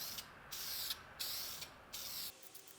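Aerosol can spraying a first light primer coat onto an LS engine block outdoors, sounding as four short, hissing bursts in a row with quiet gaps between, followed by faint clicks.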